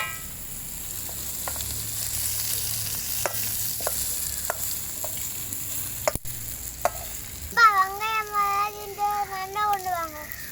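Onions frying in a pan and being stirred for a Jaffna-style crab curry: a steady low sizzle with scattered scrapes and clicks, and a voice breaking in toward the end.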